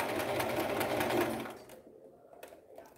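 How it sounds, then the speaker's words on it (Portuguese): A sewing machine stitches fabric and backstitches in a loud, fast, continuous whir for about a second and a half, then stops, leaving quiet rustling and a few faint clicks. "E aí eu vou costurar, fazer retrocesso normal."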